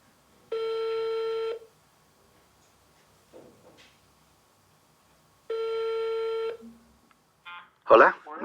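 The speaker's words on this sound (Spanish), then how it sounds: "intentamos hablar con él por teléfono." Two long telephone ringback tones, each about a second, sound several seconds apart on a phone call, with faint clicks and handling noise between them and a voice answering right after the second ring.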